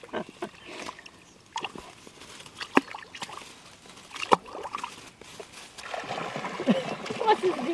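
A duck splashing in water on an outing, with scattered splashes and paddling sounds rising to more continuous splashing near the end, while people talk over it.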